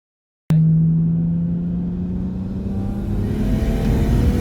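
A single-turbo BMW 335i accelerates hard in third gear, its engine note rising steadily from a sudden start into a loud, continuous rumbling pull that stays close and strong throughout.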